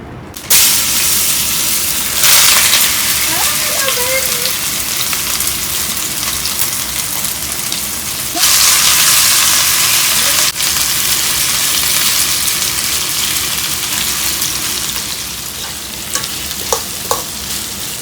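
Oil heats and sizzles in a pot over a fire while yakisoba is being made, a steady crackling hiss with a couple of brief louder surges and some stirring, close and without talk.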